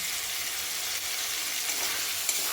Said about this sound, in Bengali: মটরটা তেলের ওপরে কাঁচা অবস্থায় দিয়েছি বলে তাই ফেটে গিয়েছে